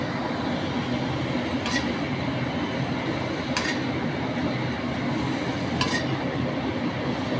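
Cauliflower and spinach being stirred and fried in a pan, a steady broad sizzle with a few soft scraping clinks of the spoon against the metal at intervals, no voices.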